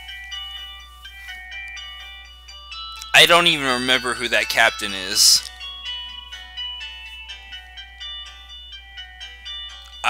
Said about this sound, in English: Now we get to hear a little nice music.